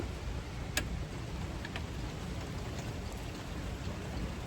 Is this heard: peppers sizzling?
no